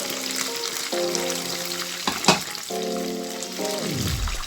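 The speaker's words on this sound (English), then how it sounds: "Now I will add oil to the frying pan to get my meat ready." Loud, continuous crackling sizzle of meat frying in hot oil in a frying pan, joined by tonal humming and a brief clatter midway; no speech.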